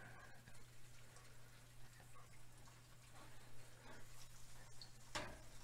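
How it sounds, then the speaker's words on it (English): Basted eggs simmer gently in butter in a pan over medium-low heat, giving a soft, steady crackle and sizzle with a low hum underneath and a brief louder pop near the end. "Gently let the eggs simmer."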